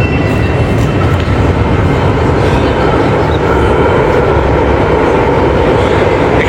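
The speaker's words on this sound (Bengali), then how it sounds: "এখানে 4 থেকে 5 মিনিট পর পরই মেট্রো আসা যাওয়া করে" A metro train at Principe Pio station in Madrid, an 1856 station with trains every four to five minutes, fills the space with a loud continuous rumble and rail roar, steady throughout with no voices.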